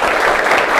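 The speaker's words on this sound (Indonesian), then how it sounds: "Oke, semuanya tepuk tangan yuk." A brief, close burst of dense applause from students in a classroom, even and loud for its short length.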